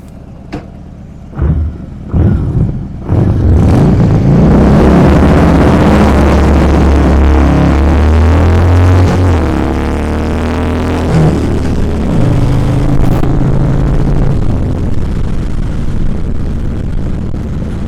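A Harley-Davidson Fat Bob motorcycle rides along with a loud, steady low engine rumble that builds after a few sharp starts and holds continuously, mixed with heavy wind noise close to the rider.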